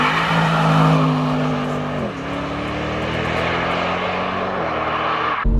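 A tuned 770 HP limited-edition BMW with a manual gearbox sits at a launch control start, its engine holding a loud, steady high-rev drone with small pitch shifts, heard close from outside the car.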